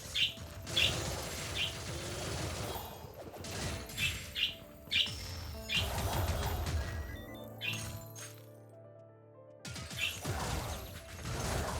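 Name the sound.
excited birds chirping in the video game Wizard of Legend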